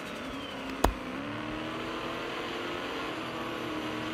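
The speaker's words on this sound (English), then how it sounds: "Sound is quite monstrous with V8 engine." A steady V8 engine drone from a Roblox Taxi Boss SUV, with a deep, throaty hum holding constant throughout, broken by a single sharp click near the start.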